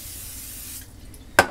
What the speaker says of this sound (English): I know you're not supposed to use a spray, but